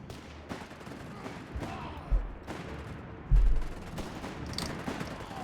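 Machine-gun and anti-tank gunfire from a Vickers machine gun and a 6-pounder gun in Company of Heroes 3 battle, dense crackling bursts with a couple of heavier booming shots amid constant battlefield noise.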